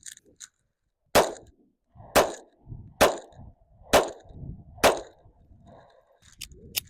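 Five sharp pistol shots from a pocket-size handgun such as the S&W Bodyguard 2.0 crack out at about one-second intervals during a five-shot grouping at a range, each shot loud and close with a short echo, while a few faint clicks come before and after.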